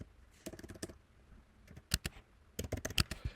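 Bursts of quick typing on a computer keyboard while working in an Excel spreadsheet, with close, crisp key clicks in short runs separated by brief pauses.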